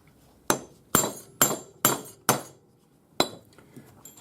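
Six sharp metallic strikes of a hammer on a disc cutter punching a 9.5 mm metal disc for a spiral pearl pendant, ringing close and loud in an uneven rhythm with short decays between blows.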